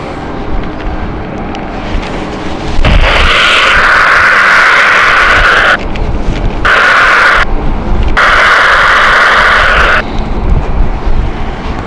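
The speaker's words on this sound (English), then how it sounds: "ITA Airways has started its engines" An ITA Airways airliner's jet engine spools up at London City Airport with a loud, steady whine and roar, broken by brief dips, under steady rain or wind noise.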